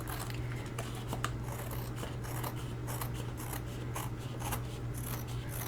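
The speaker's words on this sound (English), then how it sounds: "maybe I'll just give it a little haircut and trim it off the edge here" Scissors trimming an overhanging paper edge on a craft project, a series of quick, close snips and light cuts over a steady low hum, no speech.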